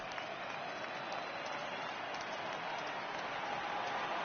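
Stadium crowd noise from MLB 18 The Show during an NLCS playoff game, a steady broadband roar of cheering and applause rising for a full count, continuous and fairly even throughout.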